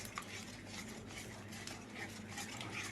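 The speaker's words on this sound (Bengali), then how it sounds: "এটা দিয়ে অনেকক্ষণ একটু নাড়িয়ে এটা করতে হয় যতক্ষণ না টমেটো টক ভাগটা কেটে যায়" A utensil stirs blended tomato paste in a pan for butter masala, making a steady scraping and sizzling texture that runs without pause, with no voices.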